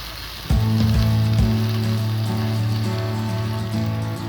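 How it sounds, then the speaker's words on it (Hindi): Potatoes and eggplant fry in a pan, a loud dense sizzle that swells suddenly as they go in and then holds steady over a low droning hum, with a couple of early knocks. "और यहाँ अब हम इन्हें अच्छे से मिक्स कर देंगे और पकाएंगे। इनकी भुनाई करेंगे अच्छे से।"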